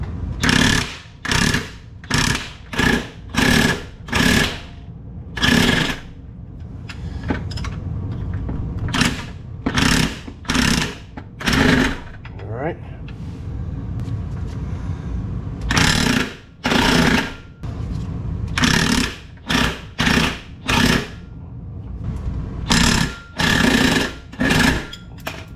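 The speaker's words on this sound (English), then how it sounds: "the world's longest set of extensions on a 1/2-inch impact wrench" A 1/2-inch impact wrench on a very long set of extensions loosening bolts on a 1996 Mercedes SL500 R129, heard close and loud as repeated hammering bursts between quieter stretches of mechanical clatter.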